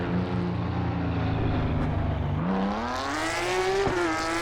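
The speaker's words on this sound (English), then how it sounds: "This car sounds the best" A race car engine in the Assetto Corsa Evo driving game hums steadily, then revs up with a rising, harmonic-rich whine that climbs in pitch as the car accelerates, loud and close with no voices.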